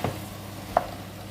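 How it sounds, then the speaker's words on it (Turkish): Zucchini cooks in olive oil with a soft steady sizzle, a faint background of frying and a single brief stirring scrape partway through. "Zeytinyağlı kabak pişiriyorum"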